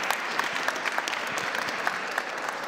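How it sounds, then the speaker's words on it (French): Brief, steady applause from an audience at an alumni talk, a moderately distant wash of many hands clapping with no voices. "On peut applaudir bien fort"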